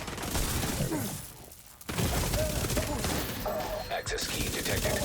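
Dense rattling gunfire in a video game, a rapid fusillade that fills the clip, cuts out briefly near the second mark, then resumes loud and continuous with scattered sharp cracks.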